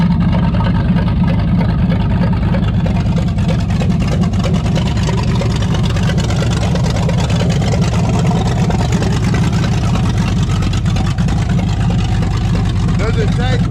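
A car engine idling and running just after its first start, a steady low rumble throughout, close and loud, with people talking over it.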